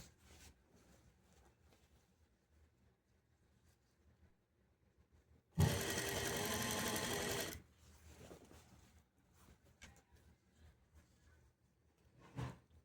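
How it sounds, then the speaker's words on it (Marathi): An electric sewing machine runs a fast, steady stitching burst of about two seconds while piping is sewn onto a blouse. Quiet handling and rustling of fabric come before and after, close by. "खेचून अशी व्यवस्थित एकसारखी शिलाई यायला पाहिजे"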